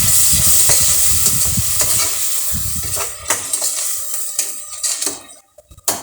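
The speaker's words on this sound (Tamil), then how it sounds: "தக்காளி அரைச்சி வச்சிருக்கிற தக்காளி விழுது அதையும் போட்டுடலாம்" Ground tomato paste sizzles and crackles in a hot pan with onions for tomato rice, stirred with a spoon that scrapes and clinks against the metal, loud and close throughout, fading toward the end.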